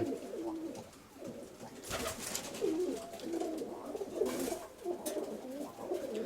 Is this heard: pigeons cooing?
yes